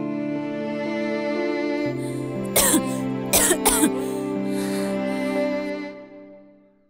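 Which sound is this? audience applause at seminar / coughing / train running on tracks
coughing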